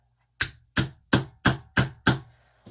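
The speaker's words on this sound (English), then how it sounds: "I'm just going to take my hammer," Six sharp, evenly spaced hammer strikes ring out on a nail being driven to punch a hole in a metal watering can, each with a brief metallic ring, loud and close.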